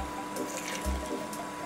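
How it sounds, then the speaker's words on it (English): Hot water poured into a vessel for brewing homemade kombucha, a faint, steady watery trickle lasting under two seconds with no talk. "We'll just put some hot water in here first."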